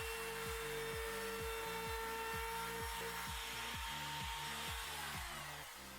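A chop saw cuts a wooden sharpening jig for planer and jointer knives to length, giving a loud, continuous motor whine with a steady grinding rasp that holds for several seconds.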